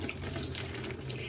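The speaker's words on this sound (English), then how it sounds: "I flush it through with water" Water flushes steadily through the beads of a rootless Phalaenopsis orchid pot in water culture, a close, continuous splashing rush like a running tap with no voices.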